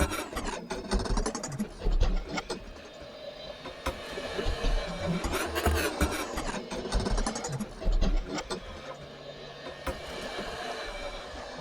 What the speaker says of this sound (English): it takes a second to process, but then I can hear it in reverse